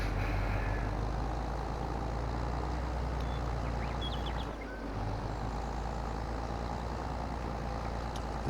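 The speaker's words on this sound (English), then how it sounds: "Jeez, this tractor sounds nice. It's a beast, but this is a steep hill" A powerful tractor engine in Farming Simulator 22 labors steadily up a steep hill, a continuous low droning rumble with a brief dip partway through, heard alone without talk.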